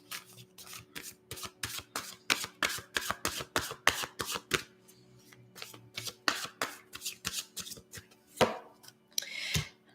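Tarot cards being shuffled close up, a quick run of crisp riffling flicks and slaps repeating steadily for several seconds, pausing briefly before a couple of louder final shuffles, with no talking.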